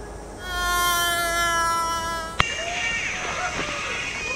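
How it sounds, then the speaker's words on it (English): A high, whining insect buzz drones close by for a couple of seconds, cut by a sharp click, then thinner buzzing continues in the background. "Are there lots of mosquitoes?"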